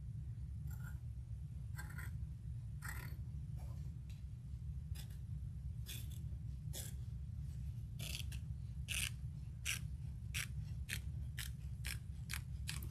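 Sharp scissors trim fabric during sewing, giving a series of crisp snips, irregular at first, then quicker and evenly spaced toward the end. The snips are close over a low, steady background hum.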